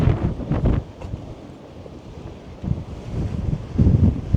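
Gusty wind buffets the microphone over choppy sea on the Cornish coast, with low rushing surges of waves coming and going in uneven bursts.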